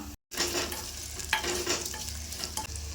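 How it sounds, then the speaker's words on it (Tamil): Onions sauté with garlic in a pan, giving a continuous close sizzle with scraping stir strokes, briefly cut out near the start. "இப்போ இந்த வெங்காயத்தையும் இதில் சேர்த்துக்கலாம்"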